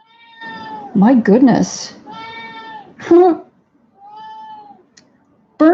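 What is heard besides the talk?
pet cat meowing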